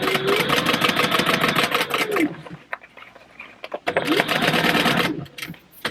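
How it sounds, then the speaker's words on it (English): Close, loud sewing machine runs a seam down fabric for a food box in two fast bursts separated by a short pause with handling noise. "I just sewed all the way down, kind of turned around, and then came back down."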